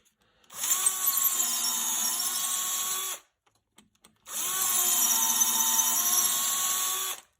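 A battery drill with a nearly flat battery bores into a wooden mortar being turned, whining loudly and steadily in two long close runs separated by a brief quiet pause.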